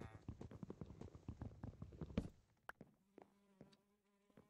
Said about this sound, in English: I hear a bee.